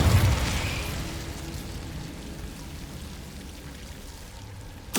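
Incendio fire spell cast in Hogwarts Legacy: a sharp burst at the start, then a soft, crackling whoosh of flames that tapers off, ending with a brief bright pop.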